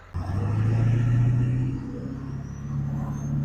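Ford 7.3 Powerstroke diesel truck on a test drive, a steady low engine rumble and drone from inside the cab that swells, eases off, then builds again.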